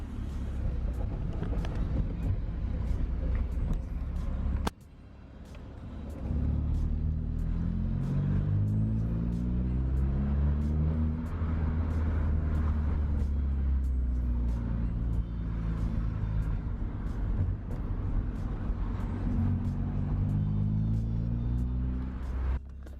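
A Ford Fiesta Zetec S engine pulls hard while driving, a loud droning rumble with rising and falling revs as the car accelerates through the gears, heard from inside the cabin with no talking.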